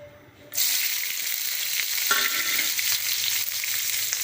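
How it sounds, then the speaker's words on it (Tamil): Onions and tomatoes sauté in hot oil in a pan for a Chettinad prawn gravy, a loud continuous sizzle that starts abruptly after a quiet moment and carries light stirring scrapes. "நல்லா வதங்கட்டும் நல்லா வதங்கட்டும்"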